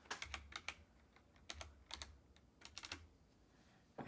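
Someone types on a computer keyboard in quick bursts of crisp key clicks separated by short pauses, close and fairly quiet, with no talking.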